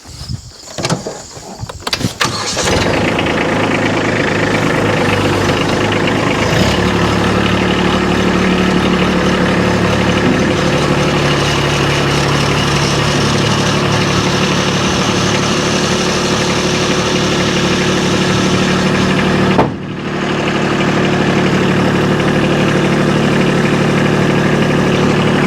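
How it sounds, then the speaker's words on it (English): A Kubota B2601 compact tractor idles steadily at close range while being loaded onto a PJ tilt-deck trailer. The mid-pitched drone holds constant for about 25 seconds, with one brief dip near the end and no talking. "I'll just show you one more time how easy it is to load the tractor back on the trailer."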